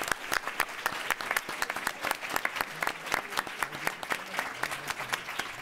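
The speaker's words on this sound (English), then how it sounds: "please, let's give another round of applause to our panel here" Audience applause for a diplomacy panel: fairly quiet, with individual claps clearly separated in a brisk, uneven rhythm that suggests a small or thinning crowd.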